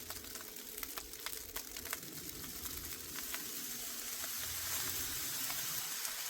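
Shrimp fried rice sizzles on a Blackstone griddle, a steady crackling hiss that builds slightly, with faint scraping taps as the rice is broken up.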